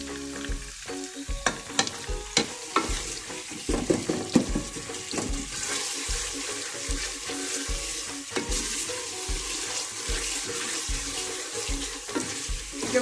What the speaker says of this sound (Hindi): मसाला भूनते हुए हमेशा आंच को हल्का रखें।